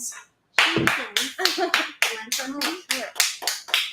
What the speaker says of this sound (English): I'm always gonna clap him in